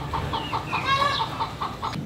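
Chickens cluck close by in a steady, repeated series of short clucks, about one every quarter second, with a longer, rising call breaking in around the middle.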